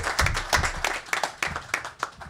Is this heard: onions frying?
no